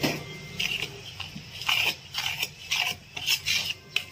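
Chili powder, salt, turmeric, garam masala, baking soda, coconut powder and coriander powder are stirred with water in a bowl for egg curry, making repeated scraping, rubbing strokes in an uneven rhythm, close and without talk.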